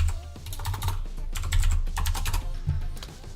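Steady, fast typing on a computer keyboard, dense clicking keystrokes up close for several seconds with no voices over it.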